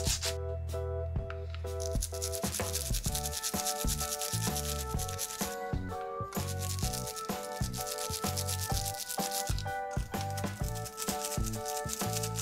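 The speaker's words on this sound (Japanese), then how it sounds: "ブラシの先がカーブしているので、ブラシを移動させつつ隅々まできれいに洗うことができました" A cheap curved-tip cleaning brush scrubs back and forth in quick, steady rubbing strokes with a dense, scratchy texture. The scrubbing is close and continuous throughout, with no one speaking.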